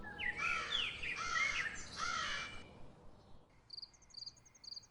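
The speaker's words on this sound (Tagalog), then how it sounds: "Matutulog na sana siya nang makarinig siya ng mga paghuni ng ibon." Birds call out in a quick series of squeaky, warbling notes, then fall quiet as a cricket's faint, rhythmic chirping takes over.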